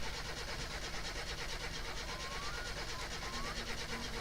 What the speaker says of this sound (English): I can also hear kind of a buzzing noise as it's trying to start.